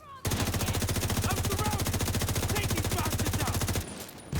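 Rapid automatic gunfire in a video game, one long sustained burst of evenly spaced loud shots for several seconds, then a short pause and a brief resumption.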